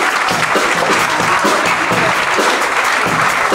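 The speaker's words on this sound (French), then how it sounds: "je vous demande d'applaudir" Concert audience applauding after a band member is introduced, a dense wash of clapping that rises and stays strong throughout, close and loud with no talk over it.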